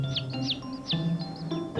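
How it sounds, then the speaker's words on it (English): Newly hatched chicks peep in a quick series of thin, high chirps at an irregular rhythm, close by and with no talk. "The chicks have all hatched now."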